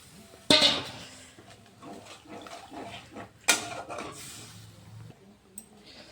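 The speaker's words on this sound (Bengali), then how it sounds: "তেল ছেড়ে দিয়েছে, এখন আমি জল দিয়ে দিচ্ছি।" Water from a rinsed bowl that held poppy seeds is poured into a frying pan of curry where the oil has separated. Two loud, sharp sizzling bursts are followed by softer bubbling and clinks.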